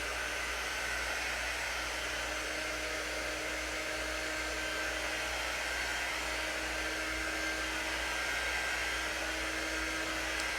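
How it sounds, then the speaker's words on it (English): A hair dryer runs continuously at close range to dry paint on a travel-themed sign, giving a steady, unbroken whooshing blow with a constant tonal whine and no pauses. "I'm just going to dry this too so it won't smear"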